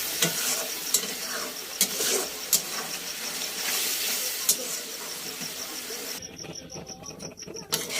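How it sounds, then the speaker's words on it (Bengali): Meat fries and is stirred in a pan, giving a hissing sizzle punctuated by sharp ticks and scrapes. The hiss drops sharply toward the end, leaving thinner crackling. "মাংসটা পুরো ভালো করে কষিয়ে নিতে হবে"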